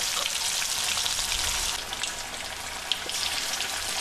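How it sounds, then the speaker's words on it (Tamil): Small fish, the bony kind called vela or vala meen, frying in a modest amount of oil in a pan for a village-style fry, with a steady dense sizzle and crackle throughout, close and even. "இந்த மீனை ஒன்று ஒன்றா அதில் மெதுவாக போடுங்க"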